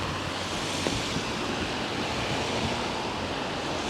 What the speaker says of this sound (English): Oh wow, it is blustery out here.